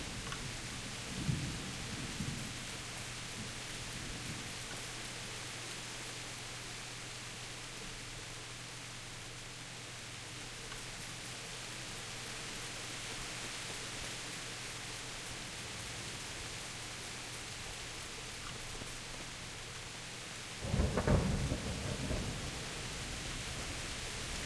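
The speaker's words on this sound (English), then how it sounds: "That's some very convincing rain though." Steady rain hiss from the Kingdom Come: Deliverance video game fills the scene continuously, with low thunder rumbles rolling in near the start and again more strongly toward the end.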